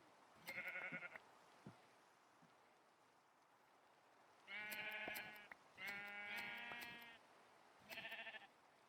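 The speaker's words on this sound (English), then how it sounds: "Oh, I killed a sheep using shears." Sheep bleating in the video game Minecraft (All The Mods 9), several separate wavering bleats spaced across a quiet, faint background.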